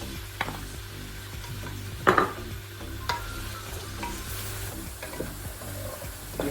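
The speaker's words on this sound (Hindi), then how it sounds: "तेल डालेंगे तो उसमें अब हम प्याज डालकर उसको ब्राउन कर लेंगे" Onions browning in hot oil for chicken tikka biryani, a steady sizzle broken by scraping strokes of a spoon against the pot and occasional sharp metallic clinks, close and without talk.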